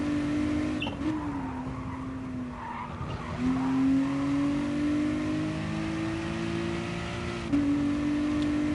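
Race car engine in the video game GT Sport at Laguna Seca, a loud, steady high-revving drone that drops and climbs with gear changes and braking, with tire skidding mixed in and no talk.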